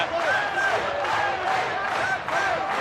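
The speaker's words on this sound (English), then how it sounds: "the crowd are feeling this." A packed boxing arena crowd cheers and roars during a twelve-round fight between Dzinziruk and Daniel Santos, a loud, steady wall of noise that rises and falls in waves, with sharp whistles cutting through.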